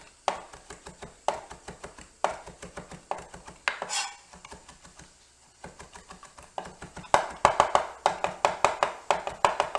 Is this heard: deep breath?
no